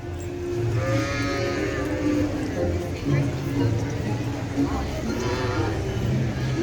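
Sheep bleat a few times, wavering and nasal, over a steady background of rain with people talking nearby throughout, at Universal's Epic Universe theme park in Orlando.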